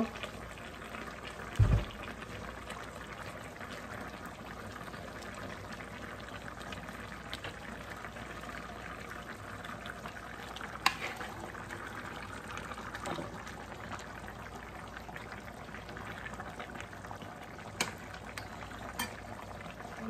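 A pot of bottle gourd curry simmering as fish is added, giving a faint, steady bubbling boil with a few soft clicks and knocks of utensils.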